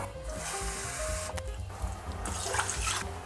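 Plain tap water poured from a glass into a pot of rice, a steady, fairly quiet stream of running liquid over a low background hum, with no talking.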